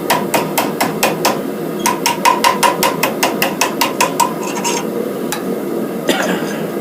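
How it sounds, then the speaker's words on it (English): Rapid, sharp metallic taps of a small hammer striking the thick end of a small nail being shaped into a ring, dozens of quick even blows in bursts, close and loud. "I'm going to try to hammer the thick end down."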